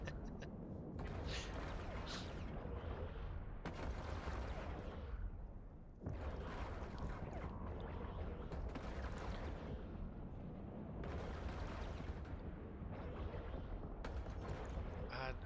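Missiles burst in Diablo 4 as a dense, continuous barrage of booming explosions, loud and overlapping, rolling on with only brief gaps between volleys.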